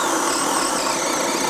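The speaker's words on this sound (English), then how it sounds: "let's take the DCD800, put on the 4-amp-hour compact battery in the 1½-inch spade bit, and see how it does again" DeWalt DCD800 compact 20V drill on a 4-amp-hour battery boring with a 1½-inch spade bit, a loud, steady whirring grind of the motor under load, close up with no talk.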